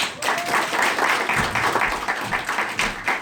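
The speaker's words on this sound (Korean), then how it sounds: "멋지게 보상 강의해주신 고영렬 대표님께 다시 한번 큰 박수 부탁드리겠습니다" An audience claps for the presenter at the close of a Korean business seminar lecture, a dense, even round of applause that fills the hall and lasts throughout.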